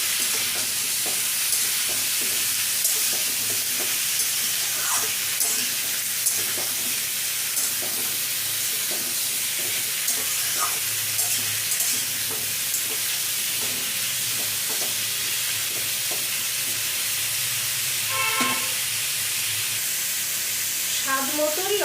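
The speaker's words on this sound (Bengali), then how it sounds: "একটু ভেজে নেব।" Pumpkin sizzles and fries steadily in a hot pan, with a continuous hiss and crackle and occasional stirring scrapes throughout, close and fairly loud.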